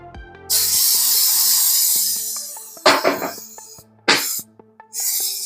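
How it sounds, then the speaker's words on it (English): A long hiss of an aerosol cooking spray coating a baking pan, then several shorter bursts, close and loud, with soft background music underneath. "spray all the edges and the bottom"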